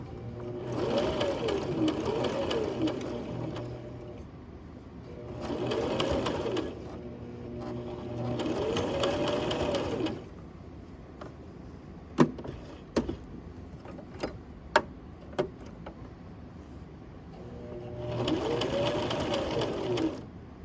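A sewing machine stitches fabric in several steady bursts of rapid mechanical whirring, stopping between runs for quiet pauses with a few sharp clicks and taps as the work is adjusted, close and alone.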